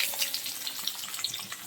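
Panch phoron, garlic and onion sizzle in hot oil for vegetable tempering, with a soft, close hiss broken by quick, light crackles and pops and no talking.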